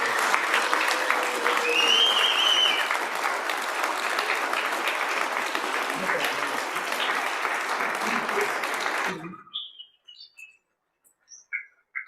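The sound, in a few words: applause for county commissioners in the gallery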